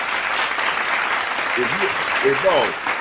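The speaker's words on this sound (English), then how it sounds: "Y'all clap it up" People applaud at a football watch party, with a sustained, dense clatter of clapping throughout and voices talking over it toward the end.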